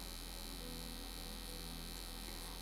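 A rocket permanent makeup machine with a fine needle buzzes continuously during powder brow work, a steady, even electric hum held close throughout with no talk.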